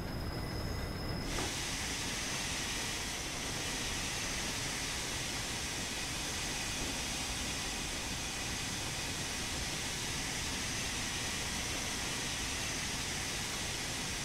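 A steam locomotive in the Train Sim World 2 game runs along the line, giving a steady broadband rushing hiss of rolling train noise with no talk.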